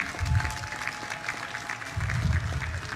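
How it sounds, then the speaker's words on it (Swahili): An audience claps for a female army lieutenant colonel at a national heroes' day ceremony, steady applause swelling in two waves with a voice speaking over it through a public address system. "mpigie makofi jameni"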